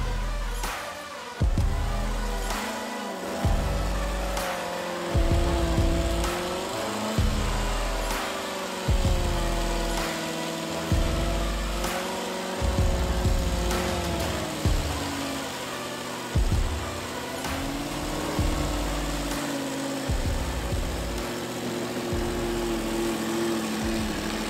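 Toyota V8 engine running under load on a snowy off-road trail, a steady droning rumble with rhythmic surges and thumps as the vehicle crawls and bounces over the terrain, close and continuous throughout.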